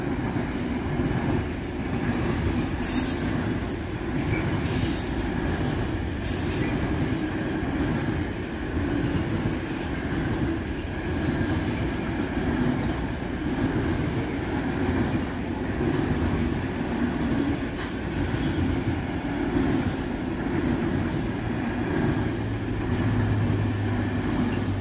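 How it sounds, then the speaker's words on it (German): An Intercity train from Karlsruhe to Munich rolls through Würzburg Hauptbahnhof with a long, steady rumble of wheels on track, and a faint squeal rises near the end. "Hier seht ihr den nächsten IC von Karlsruhe nach München,"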